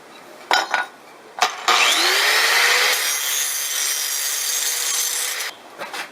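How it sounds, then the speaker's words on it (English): Metal tube being ground to fit, a loud, steady abrasive rasp with a rising whine, preceded by a few sharp knocks and ending with scattered taps. "Next step is to grind this so this tube fits in something like that."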